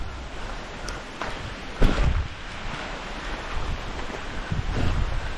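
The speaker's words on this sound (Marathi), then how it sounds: "आता खूप पाऊस पडतोय" Heavy rain pours outdoors in the Konkan countryside near Ombali village, Poladpur, Raigad: a steady, dense hiss with gusty wind noise and a few louder splashing bursts, no talking.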